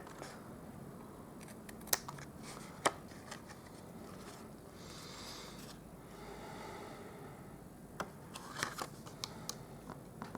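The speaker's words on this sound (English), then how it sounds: "I'm just going to grab my scissors and I'm going to trim off the edges" Scissors trim the edges off a paper card for a Halloween gnome paper doll craft, giving faint scattered snips and light clicks at close range in a quiet room.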